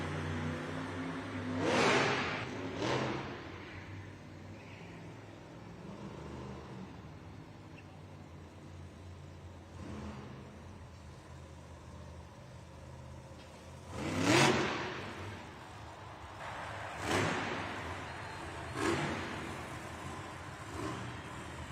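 A monster truck at an indoor arena event revs its engine in several sharp bursts during a popper stunt attempt, loud surges separated by quieter idling stretches amid background crowd noise.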